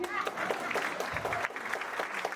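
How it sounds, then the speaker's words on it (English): A short burst of applause from an audience at a Q&A event with a former Social Security commissioner, moderately loud, scattered and distant, with a voice heard over it. "Big round of applause."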